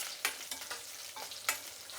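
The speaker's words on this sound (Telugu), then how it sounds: "కొద్దిగా ఆయిల్, పోపుకు బదులుగా వడిం వేస్తున్నానండి." Vadiyalu, sun-dried lentil fritters, fry in a little hot oil for a tempering, giving a steady close sizzle broken by several sharp scraping stirs of a spoon in the pan.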